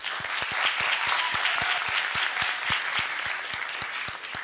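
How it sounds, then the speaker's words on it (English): An audience at a university white coat ceremony applauds an award recipient, a steady wash of clapping with a few sharp, regular hand claps standing out throughout. "we would like to give Rosa De Leon a round of applause"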